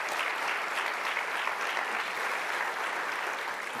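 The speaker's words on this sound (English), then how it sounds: "let's give them another round of applause" Sustained applause from a seated audience at a university student honors celebration, full and even clapping from many hands with no pauses.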